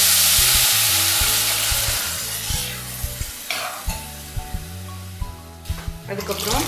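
Tamarind-based groundnut curry mixture poured into a hot pan bursts into a loud, hissing sizzle that gradually fades, followed by scraping stirs and clinks of a utensil against the pan, while a voice talks underneath.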